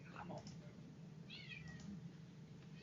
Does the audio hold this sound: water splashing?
no